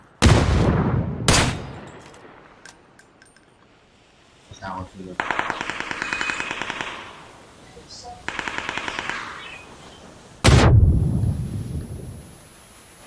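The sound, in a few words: gunfire in the video game PUBG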